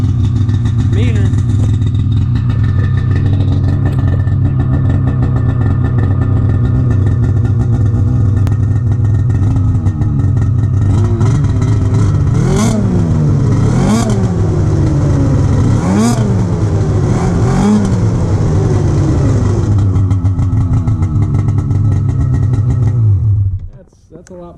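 A 2019 Polaris Assault 850 snowmobile fitted with an SLP trail can exhaust idles with a loud, steady low rumble, then revs repeatedly in sharp rising-and-falling blips before cutting off at the end.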